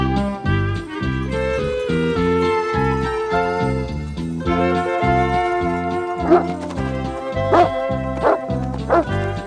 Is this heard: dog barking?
yes